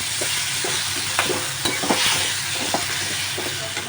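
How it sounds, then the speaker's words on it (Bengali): Prawns fry in a pan as a spatula stirs them gently, a loud, even sizzle broken by soft scraping strokes every half second or so, close up, no voices. "এবার চিংড়ি মাছগুলো দিয়ে দিলাম, দিয়ে নাড়তে থাকি আস্তে করে"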